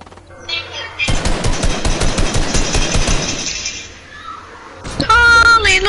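Rapid bursts of automatic gunfire from a PS4 shooter game rattle loudly and steadily for several seconds, then trail off while players talk over the action.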